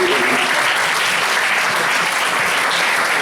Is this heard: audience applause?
yes